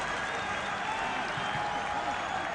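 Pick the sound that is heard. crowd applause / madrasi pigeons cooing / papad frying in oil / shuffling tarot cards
crowd applause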